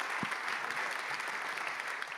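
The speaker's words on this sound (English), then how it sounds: "please give us a round of applause" Sustained applause from a conference audience at a financial investment summit, a dense steady wash of many hands clapping at even loudness throughout, with no talking over it.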